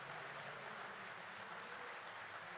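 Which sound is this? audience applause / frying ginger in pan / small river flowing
audience applause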